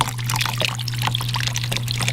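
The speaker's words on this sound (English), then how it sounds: "this is a fountain. See? And the water comes out." Water from a garden fountain splashes and trickles steadily at close range, with a constant low hum running underneath.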